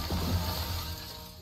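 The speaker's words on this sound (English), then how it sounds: "I just broke all that glass." Glass smashes in the survival video game 7 Days to Die, a single loud crash at the start that fades out over a second and a half with no talk over it.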